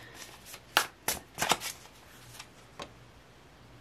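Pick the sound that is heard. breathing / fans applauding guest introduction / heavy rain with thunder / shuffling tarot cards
shuffling tarot cards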